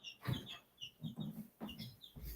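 Chickens cluck in short bursts across the clip, with a few sharper higher calls mixed in. The sound is moderately loud and fairly close, with brief gaps between the bursts and no speech.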